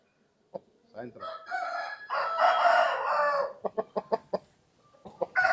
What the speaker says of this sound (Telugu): మా దొడ్లో ఇది హెవీ క్వాలిటీ పుంజు మంచి ఫైట్ అనమాట